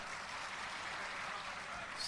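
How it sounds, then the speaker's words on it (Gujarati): Sustained applause from an audience at a Vadodara Aam Aadmi Party gathering, a steady dense wash of clapping that holds evenly throughout with no voices over it. "જોરદાર તાળી આપણે ગોપાલભાઈ માટે, જોરદાર તાળી થઈ જાય."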